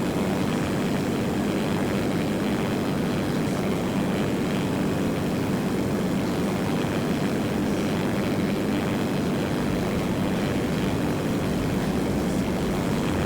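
A propeller aircraft engine drones steadily in the Simple Planes flight game, a loud, continuous hum with broadband roar holding level throughout, no talk over it.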